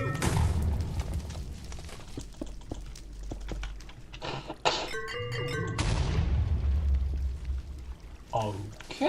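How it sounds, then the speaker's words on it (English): A rumbling game explosive blast erupts near the start, followed by a long low roar of debris and crumbling, with a second heavy thump midway; the sound stays loud and close throughout with no clear talk. "So let's just detonate another one"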